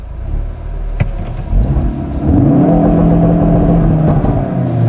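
Ford Focus RS pulling away under launch control: the engine holds at high revs, then surges loud and strained as the car launches and accelerates, rising steadily with no talk over it.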